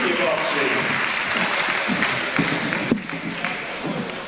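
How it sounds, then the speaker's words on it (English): Audience applause at a junior boxing event, a dense, steady wash of clapping filling the hall at an even level throughout, with a few sharper claps standing out and no clear voices on top. "Come on, a big round of applause there for Arthur and Jason and Natalie"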